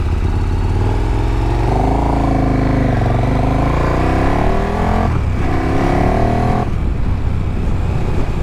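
A 2018 KTM Super Duke GT motorcycle engine revs hard and close, pitch climbing and dropping through several surges, loud and continuous with no voices.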